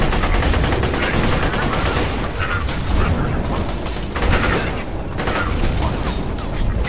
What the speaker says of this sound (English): just pepper him with bullets